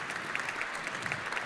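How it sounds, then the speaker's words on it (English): Round of applause from mourners at a memorial service celebrating a woman's life, steady dense clapping at a moderate distance, fairly soft throughout with no voices over it. "please give a round of applause for Marnie and Merle's family"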